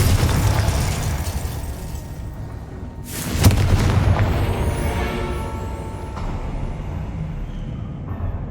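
A Confringo explosion spell from the video game Hogwarts Legacy goes off as a single sharp blast with a booming tail that fades slowly over a steady game ambience, with no talk during it.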